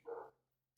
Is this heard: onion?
no